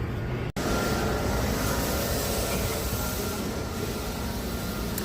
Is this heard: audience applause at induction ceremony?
no